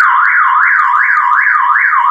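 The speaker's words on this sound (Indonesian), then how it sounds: "alarm juga normal." A car alarm wails in a steady rising-and-falling siren pattern, loud and close, repeating about every half second with no other sounds.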